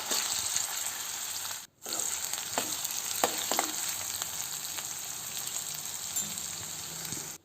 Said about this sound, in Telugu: అది కొద్దిగా బ్రౌనిష్ కలర్ వచ్చేంతవరకు ఫ్రై చేసేసుకుందాము.